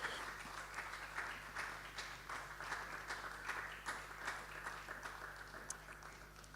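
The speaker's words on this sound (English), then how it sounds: "Please, let's welcome him with a round of applause." A seated audience at an official launch and youth policy dialogue gives a round of applause, heard as steady, moderately distant clapping over several seconds with a low hum behind it.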